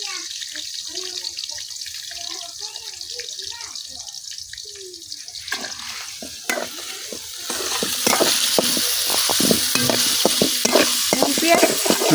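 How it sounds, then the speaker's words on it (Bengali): Onions and green chilies dropped into hot oil, first quiet with faint bubbling, then a loud, steady sizzle of frying that swells midway and continues with stirring scrapes. "তেল গরম হয়ে গেছে, এখন পেঁয়াজ আর কাঁচামরিচ দিয়ে দিতেছি।"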